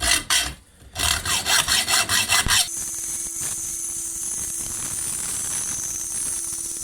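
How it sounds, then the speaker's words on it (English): A small hacksaw cuts through a metal flap from a Forest Master wood chipper, giving about a dozen rapid, evenly spaced rasping strokes close by. A steady mechanical whine and hum continue after the strokes stop. "I haven't got my angle grinder on me, so I'm just using a little hacksaw."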